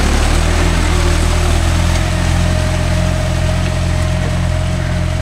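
A John Deere 5105 tractor engine runs loud and steady in second gear in a field, a constant low throbbing drone with strong vibration and no talking.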